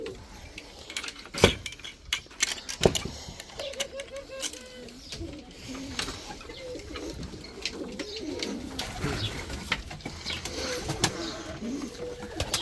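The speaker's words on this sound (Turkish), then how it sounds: "Burada da güvercinler." Pigeons coo repeatedly at close range around a coop where chicks and eggs are kept, with soft rustling and a few sharp metallic clinks between the low, rolling calls.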